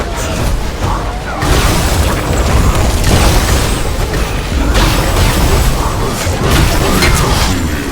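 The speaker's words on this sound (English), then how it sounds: "You've destroyed an enemy tower." Enemy tower destroyed in the Heroes of Newerth Reborn video game, heard as loud, dense booming blasts and crashing bursts that swell several times over a continuous roar of game sound, with no talk.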